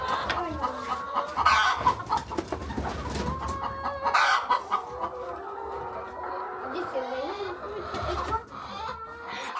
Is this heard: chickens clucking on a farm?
yes